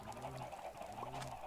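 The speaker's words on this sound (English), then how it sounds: "there's so many chickens in here" A packed group of Minecraft chickens clucking, a steady stream of soft, overlapping bird calls with no voices over them.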